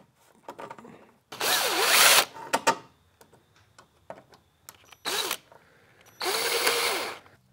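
A power drill drives screws into a boat trailer winch mount: three loud, close whirring bursts of about a second each, separated by quieter clicks and handling noises.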